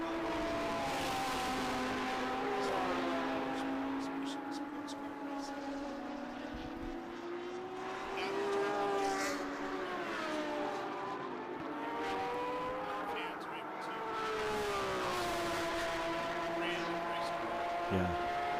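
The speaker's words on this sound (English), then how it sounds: "There's that Lambo we love. The Kaizen Autosport Lambo." A Kaizen Autosport Lamborghini race car on track at Road Atlanta, its engine drone rising and falling as it passes through corners, heard fairly faint beneath continuous commentary.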